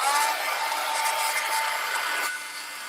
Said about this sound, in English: And commence to using the heat gun. I know this is noisy.